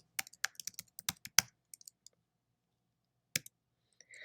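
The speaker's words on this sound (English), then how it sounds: "typing your own email address into the email to box." Someone types an email address on a computer keyboard, a quick close burst of crisp key clicks, then a pause and a few more isolated taps.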